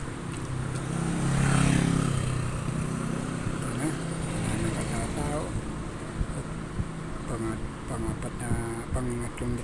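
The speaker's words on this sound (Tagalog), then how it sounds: "Pangatlong motor na yata yung dumaan sa likod ko." Motorcycle passing behind someone walking along a quiet road, its engine audible as a mid-distance drone under steady talking, with traffic noise rising and falling.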